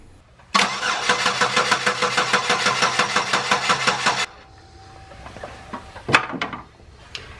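A 3.5L V6 Chevrolet Impala from the 2006–2013 generation, open for a power steering pump replacement, cranks with a loud, steady pulsing starter rhythm for about four seconds, then drops to a quiet low hum broken by a few faint clanks.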